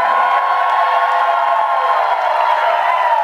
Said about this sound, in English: give a round of applause to my mom and dad